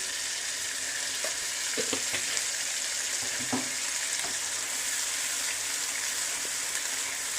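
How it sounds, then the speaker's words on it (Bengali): Spice paste with a little sugar sautéing in a pan for potol paneer (pointed gourd with paneer), a constant soft sizzle with a few faint stirring scrapes and clicks, no talk. "এই মশলাটা ভালোভাবে কষানো হয়ে গেছে"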